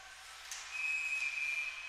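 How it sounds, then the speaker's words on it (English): A referee's whistle sounds at a Division III college ice hockey game between WMU and Grand Valley State. It is one steady, sustained shrill blast heard from a distance over faint arena hiss, with no talking. "And we'll get a whistle"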